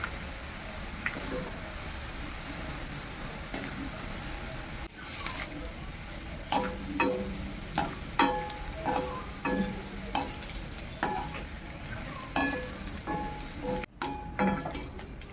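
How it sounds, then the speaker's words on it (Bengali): Grated potato shreds frying in hot oil, with a steady sizzle and bubbling close by and repeated clinks and scrapes of stirring with a utensil all the way through. "চলুন আলুটা ভেজে নিই।"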